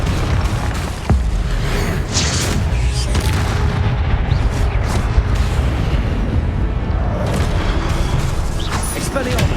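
Explosive Confringo spell blasts in Hogwarts Legacy boom loudly and repeatedly over a continuous rumbling din of combat, with one sharp impact early on and more bursts following throughout.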